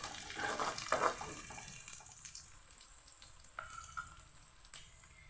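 Onions fry in a pan for a home-style chicken dish, a close, bright sizzle that swells with stirring early on and then settles into a softer hiss with occasional scrapes.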